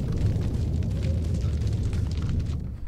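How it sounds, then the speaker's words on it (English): A shotgun blasting in Resident Evil 4, a dense, loud boom-like burst sustained across nearly three seconds with rumbling low end, no voices. "let's go with the old tried and true shotgun."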